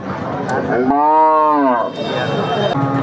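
A single long, loud moo from a large crossbred cow at a busy cattle market. It rises and falls over about a second, close by, over steady market crowd noise.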